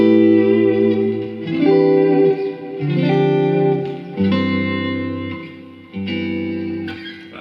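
An electric guitar plays clean chords through a Line 6 Spider V amp, each strum ringing out with a wide, echoing effect before the next, nearby and alone.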